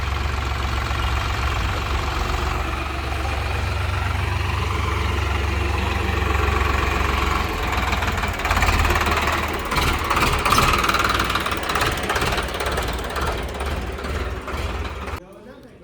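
A new tractor engine idles steadily in a low, continuous drone at a farm home, with people talking over it near the end.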